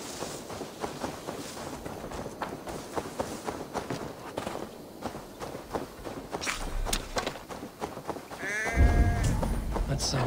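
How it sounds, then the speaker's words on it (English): An unhappy sheep in a video game bleats loudly near the end, after a stretch of footsteps and movement sounds, with a voice speaking over part of it. "That sounds like a sheep."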